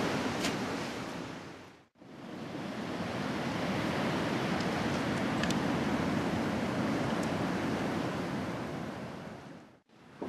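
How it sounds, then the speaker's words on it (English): Steady wind gusting outdoors and buffeting the microphone with a loud, broad rushing roar that holds for several seconds between short drops, with no talking. "I'll wait for this damn wind to calm down."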